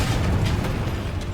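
A Bombarda blasting spell bursts in Hogwarts Legacy, a loud, continuous low rumbling boom that fills the short moment with dense, explosive energy.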